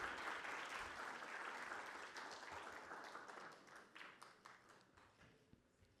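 An audience at a corporate awards ceremony applauds the winners, a dense wash of many hands clapping that is steady at first and then gradually fades and thins toward the end.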